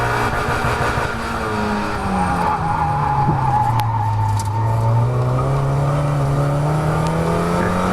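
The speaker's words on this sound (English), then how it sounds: "Sorry, gearbox. That was a big grind." A Mazda MX5 race car at Croft drones steadily under load, with a harsh gearbox grind breaking in as the engine note swoops down and climbs again; loud and close, from inside the car.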